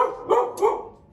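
Two sharp dog barks close together, fairly near, fading into a short quiet tail.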